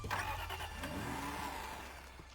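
A car engine starts in the video game Deceive Inc: a short cranking burst, then the motor catches and settles into a steady mid-pitched running hum that slowly fades, with no talk over it.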